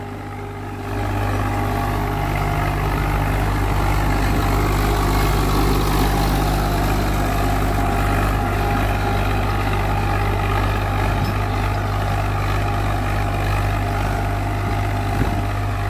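A Swaraj 735 tractor pulling an 11-tine cultivator runs at a steady, loud, heavy diesel drone, holding close and constant for the whole stretch after a brief rise at the start, with no talk.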